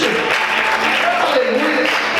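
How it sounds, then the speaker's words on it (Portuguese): Congregation applauding during a church sermon, a dense continuous clapping with voices mixed in, loud and close throughout. "Você pode aplaudir o Senhor por isso?"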